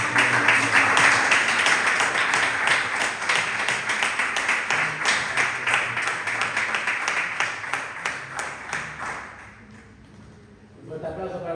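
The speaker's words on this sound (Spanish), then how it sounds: "Dale un fuerte aplauso al Rey de Reyes." A church congregation claps and applauds loudly in praise at a worship service, a dense continuous wave of many hands that holds steady before thinning out near the end, with voices mixed into the crowd noise.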